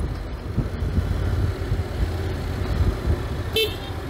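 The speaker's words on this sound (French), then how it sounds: "J'ai vraiment du mal hein, avec ce klaxon là." A 2023 Honda NC 750X DCT motorcycle gives a brief horn toot out on the road, a short sharp beep over the steady rumble of riding and passing traffic.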